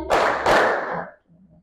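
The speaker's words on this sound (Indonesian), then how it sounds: "kalau Ibu bilang siang, kalian tepuk tangan 2 kali" Two sharp bursts of children's clapping in a classroom, loud and close, quickly fading out afterward.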